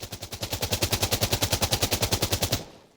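A Steyr AUG A3 rifle in Insurgency Sandstorm fires one sustained full-auto burst, a loud, rapid, evenly spaced string of about two dozen close gunshots that stops abruptly and leaves a short ringing tail.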